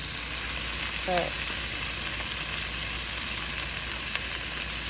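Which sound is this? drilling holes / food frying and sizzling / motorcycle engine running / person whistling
food frying and sizzling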